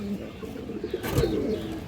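Pigeons, including stone-eyed birds, kept for sale, give soft low coos close by against a faint murmur of background noise.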